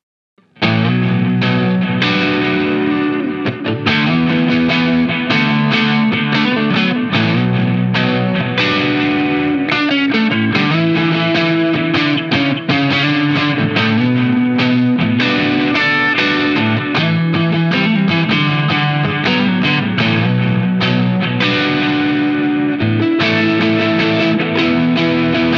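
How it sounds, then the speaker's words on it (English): An electric guitar with distortion pedals plays through a Fender Hot Rod Deluxe amp, a loud, continuous driven riff with steady chords and notes that runs without pause for the whole stretch. "From low gain drives, you can achieve the perfect edge of breakup tones with distortion pedals up to"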